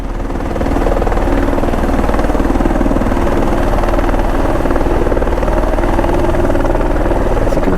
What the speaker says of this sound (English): I think the helicopter actually is a twin squirrel.